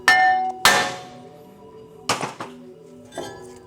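A hammer strikes the side of a Toyota 4Runner brake rotor several times, sharp ringing clangs with a metallic decay, two heavy blows then a few lighter taps.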